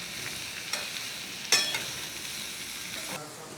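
Potato and carrot curry being stirred in a pan, giving a soft, steady frying sizzle with a few brief scraping clicks of the spoon, fairly quiet and without talk.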